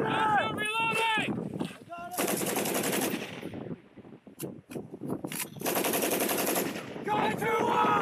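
M240B machine guns fire live on a U.S. Marines range, with loud sustained automatic bursts, brief pauses between them, and shouted voices at the start and end.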